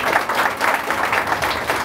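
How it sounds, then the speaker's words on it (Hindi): Enthusiastic applause for Mayur from an academy audience at a certification event, a steady, fairly close clatter of many hands lasting under two seconds. "एक बार ज़ोरदार तालियां मयूर के लिए बजा दीजिए आप"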